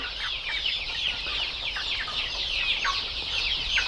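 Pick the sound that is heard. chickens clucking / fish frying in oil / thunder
chickens clucking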